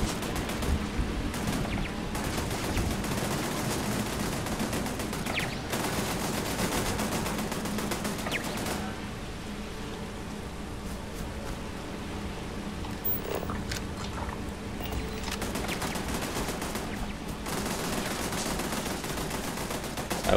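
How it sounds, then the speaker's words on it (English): Turrets firing in the space game Starfield, dense sustained bursts of rapid automatic gunfire that pause briefly and resume, loud and continuous over about twenty seconds. "Sound of those turrets."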